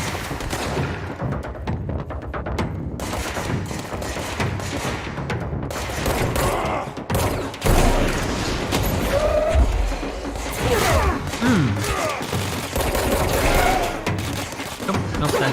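Video game gunfire roars in dense, loud bursts of rapid shots and thuds, nearly continuous for the whole stretch with no voices over it.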